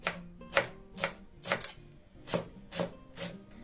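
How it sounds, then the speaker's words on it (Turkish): Half a bunch of fresh dill chopped finely with a knife on a cutting board, seven or eight crisp, evenly spaced chops close up with no talk. "Yarım demet dereotumu ince ince kıyıyorum"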